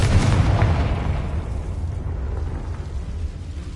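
A Confringo fire spell blast in Hogwarts Legacy opens as a loud, deep booming burst and rolls into a sustained rumbling roar that slowly fades, with no voices.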